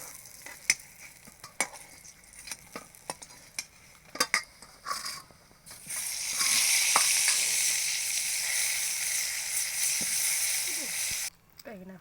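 Eggplant frying in hot oil, first several sharp utensil clicks and taps, then a loud, sustained sizzle that swells midway and runs for about five seconds before cutting off abruptly, with no talking.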